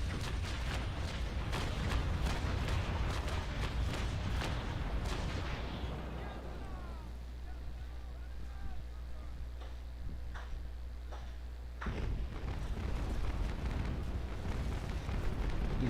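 Ship cannons fire in the naval combat game Naval Action, a rapid dense barrage of booming shots for several seconds, then quieter rumbling and a few scattered blasts before another loud volley.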